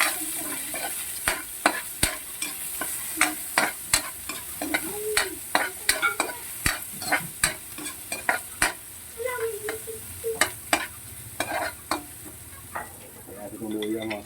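Garlic sizzles in oil in a pan for duck adobo in coconut milk, a steady frying hiss beneath repeated sharp scrapes and clacks of a utensil stirring, while a voice occasionally murmurs in the background.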